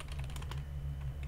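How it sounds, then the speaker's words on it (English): Typing on a computer keyboard while writing a Roblox Studio script, a short burst of quick, close key clicks over a low steady hum. "inside the health manager script, you want to type local humanoid"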